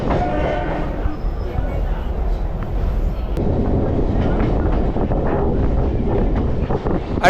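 A Chennai suburban train from Egmore to Tambaram rumbles steadily along the rails with continuous wind buffeting and occasional faint clatter, a voice talking over the noise.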